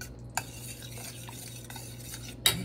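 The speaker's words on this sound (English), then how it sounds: "Mix that up and heat it over medium heat" A spoon stirs sweet and sour meatball sauce in a pan over medium heat, giving soft scraping swishes with two sharper clinks against the pan, close and alone.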